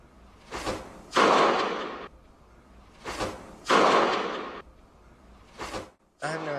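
Two sharp, heavy smacks of a baseball pitch landing in a catcher's mitt, a few seconds apart, each preceded by a brief rushing whoosh, close by, with a softer thump near the end.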